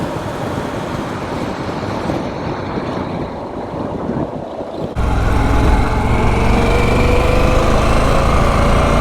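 A Harley-Davidson Pan America adventure motorcycle rides along a main road, with a steady engine drone and heavy wind rush over the microphone that suddenly swells louder and brighter as speed picks up midway, with no voices.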